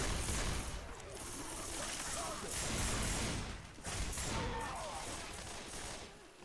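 Gunfire in the zombie shooter Left 4 Dead 2: dense, continuous volleys of shots with crashes throughout, loud and close, with players talking over the shooting.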